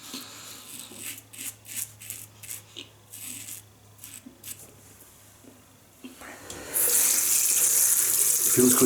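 Water from a bathroom tap gushes steadily and close, loud and continuous, after a stretch of faint scraping and handling noises while a razor is warmed during a shave with thick Arko shaving cream.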